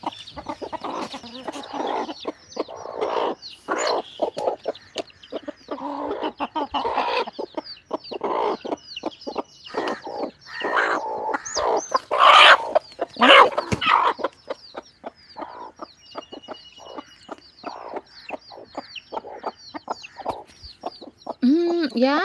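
Farmyard chickens cluck and squawk in dense, busy bursts close by, with an occasional crow, and a voice talks intermittently among them.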